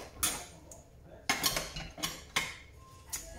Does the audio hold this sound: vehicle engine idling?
no